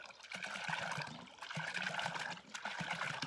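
Water gushing from a spring under pressure, a close, continuous bubbling trickle and splash with slight surges, no talk.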